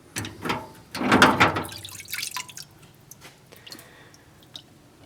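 Metal hinges lifted out of a tub of parts cleaner after soaking, a short splash and slosh of liquid followed by scattered faint drips, close by.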